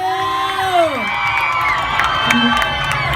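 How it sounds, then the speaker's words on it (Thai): A crowd at an army charity concert cheers, screams and whoops, with high shrieking voices over a busy background of clapping, loud and continuous for the whole stretch. "ปรบมือให้เขาอีกสักครั้งนึงก่อนที่เขาจะลาเวทีตรงนี้นะคะ"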